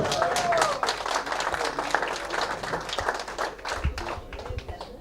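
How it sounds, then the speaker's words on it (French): Audience applause, a lively burst of clapping hands close by with some brief voices and a whistle mixed in, tapering off toward the end. "Sous vos applaudissements, mesdames, messieurs, Bob."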